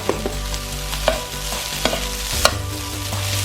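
Second-day rice stir-fries in a pan with a constant sizzle over a low hum, broken by sharp scrapes and taps of a utensil about every half second as it keeps moving.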